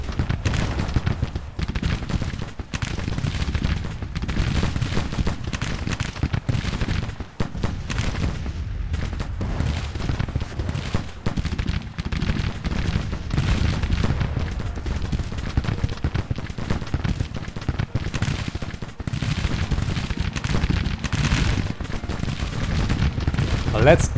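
Civil War musket volleys from infantry brigades, among them the 2nd New Jersey and 1st Tennessee, crackle and rumble without pause in the Grand Tactician strategy game, a dense, continuous fusillade with heavier booms mixed in.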